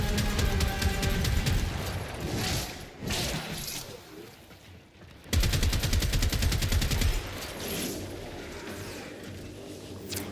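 Gunfire from a slow-firing weapon in a shooter video game, a dense, loud stretch of shots with a brief lull in the middle before the shooting resumes, close and continuous.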